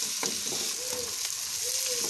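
Onion, garlic, ginger and green chilies fry in a pan for a fish-head curry, giving a constant close sizzle with faint scrapes of stirring.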